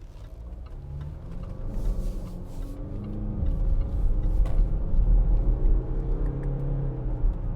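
A 2018 Jaguar F-Pace 2.0d R Sport automatic AWD drives on a slippery road, a steady low engine and tyre rumble from inside the cabin that swells gradually under light mechanical noise.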